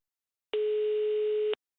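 A single steady tone rings out in a phone call inside a Minecraft game, lasting about one second, loud and clean with no talk over it.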